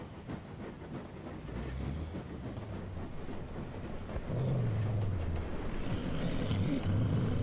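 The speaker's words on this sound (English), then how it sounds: "You're on a train, travelling east towards Dumfries, in Scotland." A train travelling east towards Dumfries, Scotland, heard from on board as a steady rumble with a faint rhythmic clatter, continuous and moderately loud.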